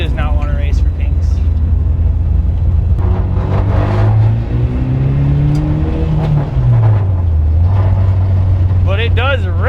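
Toyota-powered Volkswagen bus driving, a loud low engine drone that climbs and dips in pitch as it revs and shifts, with people talking over the cabin noise.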